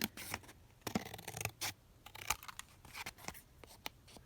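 Scissors trim paper in a quiet series of short, crisp snips and crunchy cuts at close range, irregularly spaced over a few seconds, with no voices.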